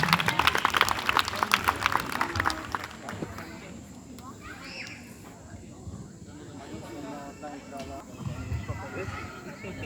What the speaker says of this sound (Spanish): Démosle un fuerte aplauso a este grupo en esta hora.